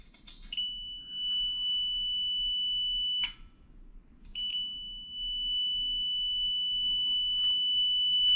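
A multimeter gives a continuity test beep on an electric heat strip in a fan coil unit: a sustained high electronic tone, broken by a short gap, then resuming.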